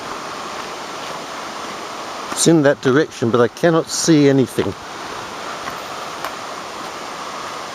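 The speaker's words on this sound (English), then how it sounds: "The sound of the water is becoming very loud." Loud, steady rushing of water at Queen Mary Falls, a broad continuous roar filling the background throughout, with someone speaking briefly over it midway.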